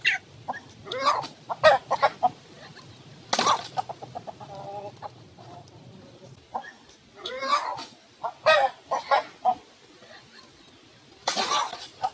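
Chickens cluck in scattered bursts, with a rooster's louder calls and fowl chatter coming and going over quiet farmyard background.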